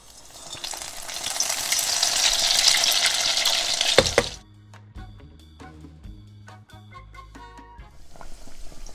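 Tonga toast, battered bread, drops into hot oil with a loud, dense frying sizzle that swells over about four seconds and then cuts off abruptly. Quieter clinks and faint bubbling follow before the sizzle returns softly at the end.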